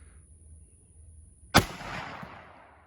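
A single loud blast from a 45-70 Government rifle firing a 300 grain Winchester Super X jacketed load cracks out after a quiet stretch outdoors, leaving a short rumbling echo.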